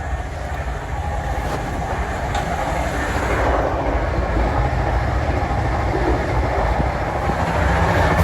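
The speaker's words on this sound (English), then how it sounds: "nothing can beat the Class 43 locomotive. They're so noisy, so bumpy" Inside a GWR Class 43 HST diesel train under way, a loud continuous rumble of engine and running gear fills the space, with steady rail noise and faint rhythmic clatter throughout.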